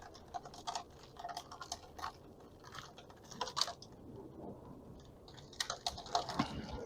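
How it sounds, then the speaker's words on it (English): Soil being combed out of a dwarf jade bonsai root ball during repotting, with quiet irregular scratchy ticks and crumbly rustles close up, continuing steadily with no talking. "I'm just going to kind of comb it out a little bit so we can get some fresh soil in."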